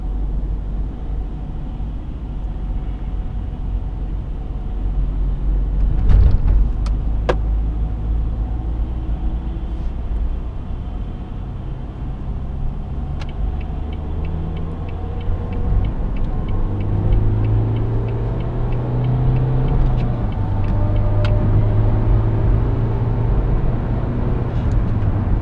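A 2006 Renault Scenic 1.5 dCi diesel accelerating in third gear, engine rumble rising steadily and building in pitch over about twenty-five seconds, with cabin ticks and road noise and no talk.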